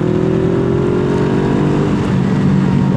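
A Suzuki GS 500 motorcycle with a sport exhaust accelerates hard, its engine note rising in pitch as it revs up before shifting, loud and close with a raspy, continuous roar.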